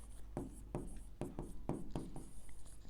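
Pen writing accounting entries on paper, a quiet close series of short strokes and scratches in a steady rhythm, with no voice over it.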